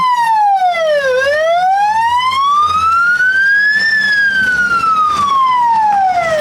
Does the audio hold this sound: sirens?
yes